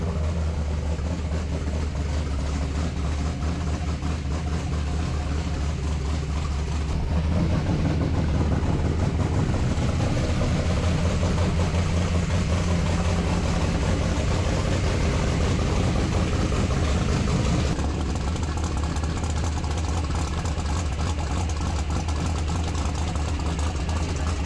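A car engine fitted with aftermarket dump valves, running on ethanol, idles steadily with a deep, even rumble that swells louder in the middle stretch before settling back, close by with no voices.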